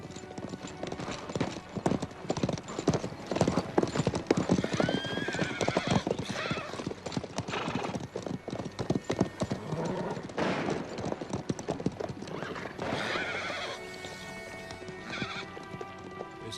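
Rhythmic clip-clop of horse hooves, close and steady, with a horse whinnying partway through and faint voices in the background.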